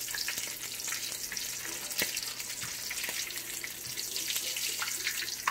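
A homemade egg omelette for a fish filling frying in a pan, a steady broadband sizzle running throughout with faint clatter, fairly close and with no one talking.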